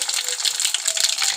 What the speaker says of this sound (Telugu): ఇప్పుడు తాలింపు గింజలు వేసుకుందాము.